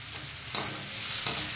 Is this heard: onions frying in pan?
yes